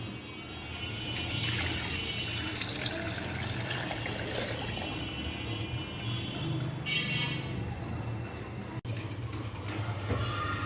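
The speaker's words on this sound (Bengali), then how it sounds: "আমি এই যে পুরা হাঁড়িটা ভরে পানি দিয়ে দিয়েছি" Steady rush of water filling a cooking pot for beef trotters (paya), continuous and fairly loud, with a faint hiss and a brief clink near the end.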